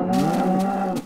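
A Minecraft cow lets out a single drawn-out moo, loud and close, running for about a second before cutting off.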